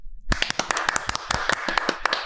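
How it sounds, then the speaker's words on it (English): A small group clapping close by, a short burst of sharp, irregular hand claps starting after a moment of silence and continuing for about two seconds at a podcast recording. "I was going to give us a round of applause."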